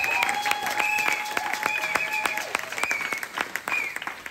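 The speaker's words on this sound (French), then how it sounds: "Acclamons la parole." A church congregation claps together through a worship service, steady dense applause with sharp individual claps and faint background voices and tones sustained underneath.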